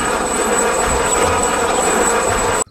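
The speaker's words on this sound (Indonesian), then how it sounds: "Widih, helikopter militer." A toy military helicopter gives off a steady, loud whirring rotor and engine drone with a thin high whine on top, running continuously before cutting off abruptly at the end.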